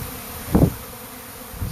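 A honeybee swarm droning in a low, steady hum, with one louder buzz briefly passing close by and another starting near the end.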